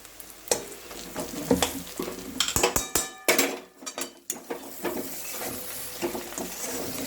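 Spoon stirring ghee into cooked pea greens in a pan, irregular scraping and clanks against metal with a faint sizzle beneath.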